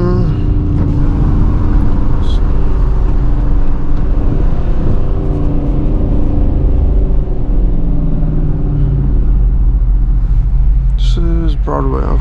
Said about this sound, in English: Downshift again.